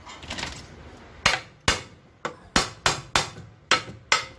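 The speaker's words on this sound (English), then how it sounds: "It is better to use such type of rubber hammer or wooden hammer." Eight sharp rubber-hammer blows on a Lambretta scooter's rear brake drum at an irregular pace, each a dull clang with a brief ring, close by, after a quiet rustle of handling.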